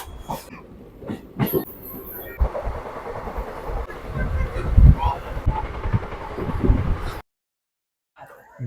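A passenger train on the Bengaluru–Hubballi line pulls out of Davangere station in the rain: rolling wheel rumble and rhythmic wagon clatter heard from on board build and hold, then cut out, with brief talking near the start.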